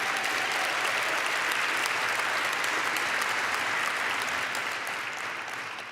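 Round of applause at a student-athlete graduation ceremony, a dense crowd clapping steadily and loudly before tapering slightly at the end.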